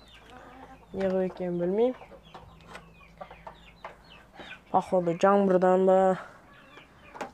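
A rooster and hens cluck and call nearby in two loud bursts of rising, warbling cries, with someone talking quietly in between.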